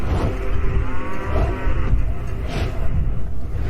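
A buffalo in an animated story lets out a deep, sustained bellowing moo that runs loud and steady for several seconds, with no voices over it.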